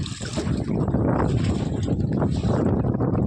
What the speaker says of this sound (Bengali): এদিকে লঞ্চ যাচ্ছে